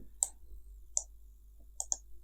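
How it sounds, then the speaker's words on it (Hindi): Four sharp computer mouse clicks, made while copying items in Tekla Structures software, come close and crisp: one single click, a second about a second later, then a quick pair near the end, with no talk. "तो राइट क्लिक करके मैंने कॉपी कर लिया है।"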